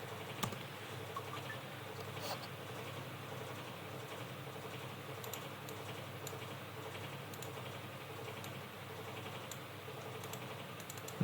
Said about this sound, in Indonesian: kita ketik aja di library